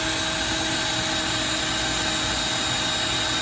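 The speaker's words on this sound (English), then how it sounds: "this drill's a little dull. I need to get a new bit." A power drill with a dull bit bores a hole through a metal drain pan, a steady grinding whir with rough low-end rumble held close and continuous throughout.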